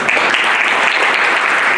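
Dense, loud applause from an audience at an oratory award ceremony, a steady continuous wash of clapping close to the microphone with no voices over it.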